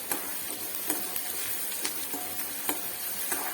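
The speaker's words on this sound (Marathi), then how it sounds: "तेलामध्ये कांदा जास्त फ्राय करायचा नाहीये" Onion frying in hot oil in a pan for a wild greens (takla) dish, a steady soft sizzle with a few light scraping stirs of a spoon at intervals, no voices.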